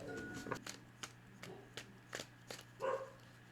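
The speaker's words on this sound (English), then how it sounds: "sorry if you hear some barking, that's my dog" A dog barks repeatedly in short sharp bursts, fairly faint and a little distant, with quiet gaps between barks.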